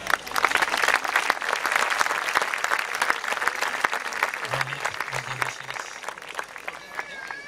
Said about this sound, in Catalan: Un fort aplaudiment per ben fort.